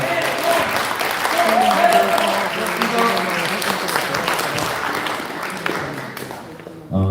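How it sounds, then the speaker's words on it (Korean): An audience at a Korean lawmaker's invited lecture breaks into sustained applause for two lawmakers, a dense wash of clapping that stays loud for several seconds before thinning out and stopping abruptly. "우리 두분 의원님께 다시 한번 큰 박수 부탁드리겠습니다"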